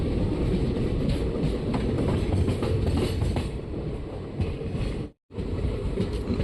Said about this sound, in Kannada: ನಮ್ಮ ಟ್ರೈನೀಗ ಬೈಯಪ್ಪನಹಳ್ಳಿ ರೈಲ್ವೆ ಸ್ಟೇಷನ್ ಒಳಗೆ ಬಂತು.